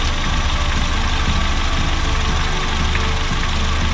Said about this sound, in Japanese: これでね、エアコン回った時のちょっと音確認していきます。